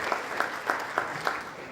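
Applause from an audience at a sports medicine and rehabilitation conference welcoming a doctor to the stage, a short steady patter of clapping with a few sharper claps standing out at regular intervals.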